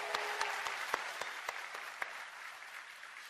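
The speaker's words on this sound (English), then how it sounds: "if you want to give him a round of applause for participating" Audience applause fills a keynote hall at a tech conference, a dense, steady wash of many hands with a few sharper claps standing out, holding at an even level throughout with no voices.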